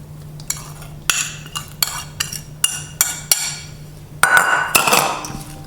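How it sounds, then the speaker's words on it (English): Tomato and cucumber salad for tabbouleh is mixed in a bowl, giving a series of sharp utensil clinks and scrapes at an irregular rhythm, close up, ending in a busier stretch of stirring. "Again, mix this all together."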